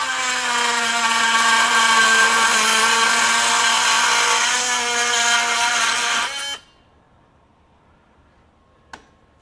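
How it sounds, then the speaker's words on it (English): A Ryobi Gen 2 18V One+ HP cordless multi-tool buzzes loudly and steadily as its oscillating blade cuts through aluminum, then stops abruptly, followed by quiet and a brief click. "See how much quicker it cut that aluminum?"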